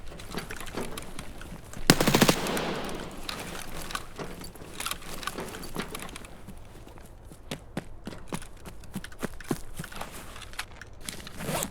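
Rapid bursts of automatic gunfire crack through a firefight in the video game Escape from Tarkov, with a loud dense volley early on followed by scattered sharp shots and clicks continuing to the end.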